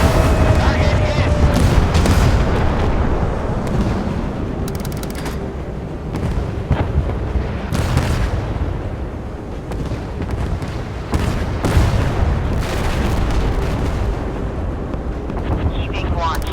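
Naval gunfire and explosions in a warship combat game: dense, continuous booming and blasts with repeated sharp shots layered over a rumbling battle din, loud throughout, while voices call out under the noise.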